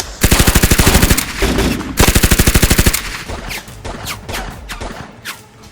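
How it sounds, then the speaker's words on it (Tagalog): Machine-gun fire from a Filipino TV drama comes in two loud, rapid bursts of evenly spaced shots, each lasting about a second, followed by scattered fainter shots and crashing noises. "Ano yung mga putukan na yun?"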